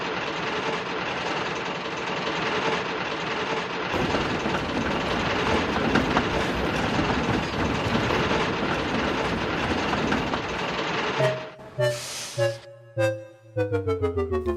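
A train engine runs along rails on a Gensokyo railway, with a loud continuous roar and rumble that ends in a few brief tonal whistle-like bursts.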